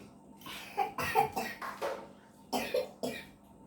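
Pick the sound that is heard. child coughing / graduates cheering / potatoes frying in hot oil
child coughing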